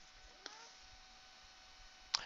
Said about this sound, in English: It's probably the cat that wanted attention. I heard that meowing.